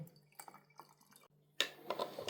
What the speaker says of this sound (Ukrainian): Ну, зараз додавлю води і буду заливати рибу.